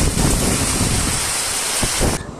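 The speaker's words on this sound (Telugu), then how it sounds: "వర్షం అయితే మామూలుగా లేదు." Heavy rain pours down on a campsite in Kanyakumari, a dense, loud, continuous roar close by that cuts off abruptly near the end, with no talking.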